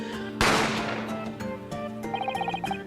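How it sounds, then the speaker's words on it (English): Gunshot sound effect in the video game The Great Ace Attorney, a single loud, sharp blast with a ringing decay, followed by game music with quick plinking notes. "A gunshot rang out"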